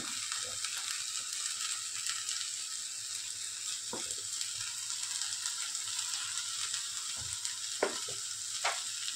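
Telpat wild greens frying with onions in a pan, a faint steady sizzle with occasional soft spatula scrapes and taps.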